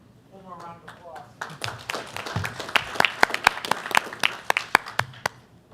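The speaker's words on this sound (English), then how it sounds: "One more round of applause." An audience at a school board meeting gives a round of applause: scattered hand claps that build into a fuller, uneven burst, with a voice speaking briefly near the start.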